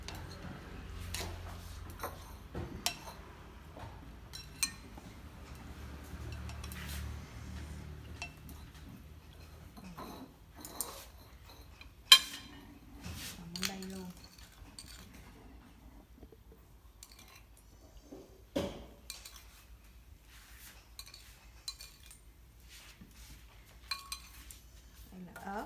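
Intermittent clinks and scrapes of utensils against a bowl while mixing a pig ear salad, scattered light taps with quiet gaps between them.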